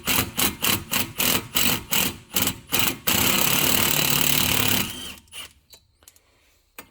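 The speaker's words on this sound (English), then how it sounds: "Way easier to get them out with an impact when they're corroded like this" An impact wrench hammers at corroded Phillips brake rotor screws on a Hyundai Sonata, first in a rapid series of loud pulsing bursts, then a sustained rattling run that cuts off to near quiet.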